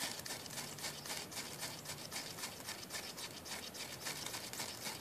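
Repeated rough striking and rasping against wet wood while trying to light a fire, a steady scratchy rhythm of quick strokes, fairly close and continuous with no talking.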